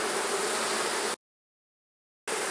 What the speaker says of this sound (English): there are bees covering all 10 frames here